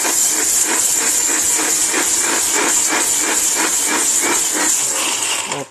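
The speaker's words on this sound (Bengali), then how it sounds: "মোটর যে স্পিড আর মোটর যে সাউন্ড শুনলেই 1600 ওয়াট ভাই, অরিজিনাল অথেন্টিক 1600 ওয়াট।" A 1600 watt blender motor runs loud and steady with a high whining hiss and a rapid pulsing rhythm, cutting off at the very end.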